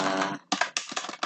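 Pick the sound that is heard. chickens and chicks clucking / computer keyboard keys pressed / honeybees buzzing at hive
computer keyboard keys pressed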